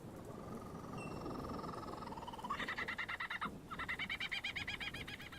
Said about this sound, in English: that's from a bird called a kookaburra